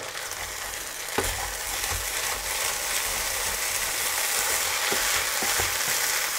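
Rice with raisins frying in a pan gives a steady, close hiss and sizzle, with a few light clicks of stirring now and then.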